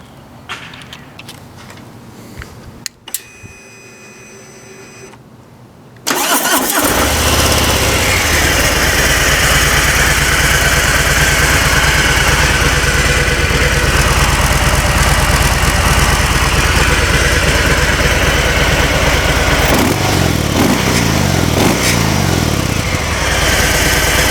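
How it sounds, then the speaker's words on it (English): A 2018 Harley-Davidson Fat Bob with the Milwaukee-Eight 114 engine cranks and fires up, then settles into a loud, steady, close idle that rumbles on alone for the rest of the clip. "2018 Harley Fat Bob, Milwaukee 8 motor,"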